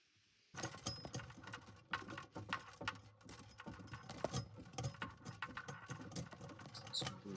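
Back nut of a basin mixer tap being tightened by hand under a sink: close, continuous metallic clicking, scraping and rattling of fittings, steady for about seven seconds.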